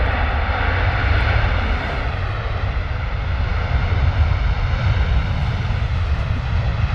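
Ryanair airliner landing at London Stansted with heavy rudder corrections before a high-speed runway exit; continuous loud engine roar and rumble that swells slightly and stays constant, no voices over it.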